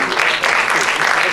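A crowd at an annual media award show claps in a short, dense burst of applause, fairly loud and continuous with faint voices mixed in.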